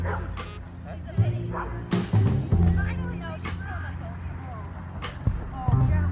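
A small dog, one of a pack kept indoors for days, yips and barks in short, scattered bursts over a steady background murmur of household noise.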